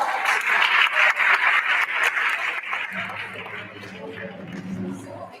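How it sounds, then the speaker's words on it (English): Audience at a charity giving-day quiz applauds the registrar: dense, steady clapping that fades as a voice comes in over it. "A huge round of applause for the registrar."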